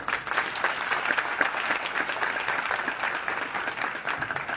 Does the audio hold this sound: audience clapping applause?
yes